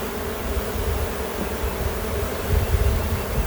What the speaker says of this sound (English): You notice some of the bees fell on the combs from the outside, and they're fanning on it.